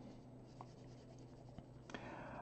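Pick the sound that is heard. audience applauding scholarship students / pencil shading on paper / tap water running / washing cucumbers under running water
pencil shading on paper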